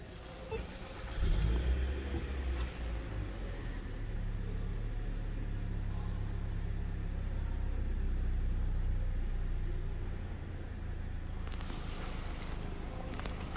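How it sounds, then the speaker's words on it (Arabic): 2022 Mitsubishi Outlander started by push button: a short surge as the engine catches, then a steady low idle hum with some wind noise, recorded close to the car. "أسمعكم الآن صوت تشغيل الميتسوبيشي أوتلاندر، وطبعا تشغيل السيارة عن طريق هذا الزر"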